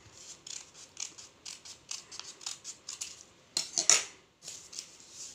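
Scissors snip through fabric for an infant dress in a steady run of crisp, close cuts, a couple of louder closing snips near the end, with no talking.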